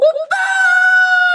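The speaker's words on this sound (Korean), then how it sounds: "하늘을 찌를 듯한 함성을 들었죠." A single loud, sustained high-pitched scream rising out of a brief vocal onset, standing in for the crowd roar at a K-pop club in Montreal when boy-group songs played.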